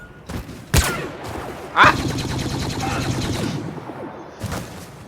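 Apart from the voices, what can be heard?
rifle gunfire in Star Wars Battlefront video game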